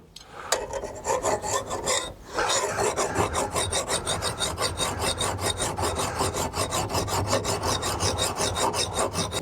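A hand file rasps rhythmically along the edge of a lawn mower blade during sharpening, with steady, even strokes close up and no talking.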